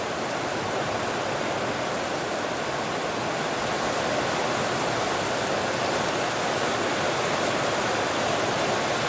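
Cold winter rain falls steadily in Western Australia, a dense, even hiss of drops that holds at a constant loudness throughout with no talking.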